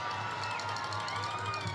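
Football stadium crowd at a high school game, a continuous dense roar of many voices, loud and steady through the brief moment.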